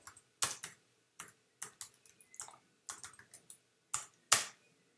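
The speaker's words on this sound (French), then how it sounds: "je vais taper PHP artisan" Someone types a PHP artisan command on a computer keyboard: about a dozen crisp, close keystrokes arrive in short bursts with brief pauses between them, no voices.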